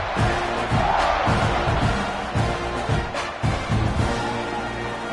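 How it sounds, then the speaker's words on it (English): A stadium crowd in the college football video game NCAA 26 roars steadily and loudly throughout, with a dense, continuous cheering wash and some rhythmic swells. "this crowd is feeling themselves after that last drive"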